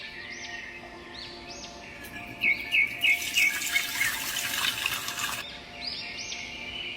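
In a cartoon village scene, tap water gushes for a few seconds as someone washes their hands and face, a bright splashing rush framed by birds chirping before and after.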